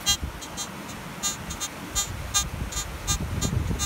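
A Garrett AT Gold metal detector, used for gold detecting over black sand, gives repeated short electronic beeps over a faint crackling background.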